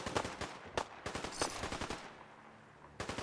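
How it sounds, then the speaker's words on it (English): Rapid gunfire rings out during combat in Fallout 4, dense bursts of loud automatic shots crackling close together, pausing briefly before another burst starts. "Now, stop shooting Kessler."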